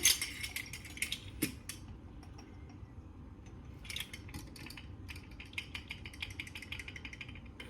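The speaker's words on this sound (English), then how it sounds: "we're just going to stir this in there till it dissolves" A spoon clinks and scrapes against a bowl, stirring half a teaspoon of dry yeast into liquid for beignets, with light irregular taps and a few sharper knocks.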